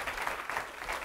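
An audience at a tech conference talk on shell usability breaks into a short burst of dense, steady clapping, heard from a slight distance with no voices over it.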